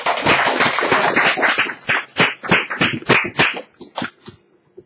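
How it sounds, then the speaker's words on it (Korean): Audience applause at a Korean academy lecture welcoming the secretary-general of a cultural foundation: dense, steady clapping from many hands that thins out into scattered, separate claps and fades near the end. No one speaks. "그러면은 조은근 총장님을 박수로 좀 맞아주십니다"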